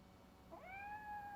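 A single rising, drawn-out meow from Grumpy the cat in Robocop: Rogue City, clear and close but soft, over a quiet hum of background ambience.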